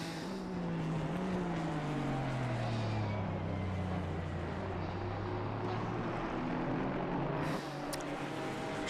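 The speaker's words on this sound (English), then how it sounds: "Should have some race engine sound now" GT race cars circling Laguna Seca in a GT Europe round, engines droning steadily with rising and falling pitch as they pass at a distance, a continuous wash of engine noise.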